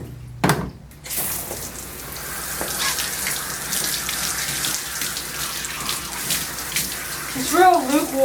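Tap water runs steadily into a tub during a bath for a matted Golden Doodle, a continuous splashing hiss following a brief knock at the start, with a whine or voice near the end.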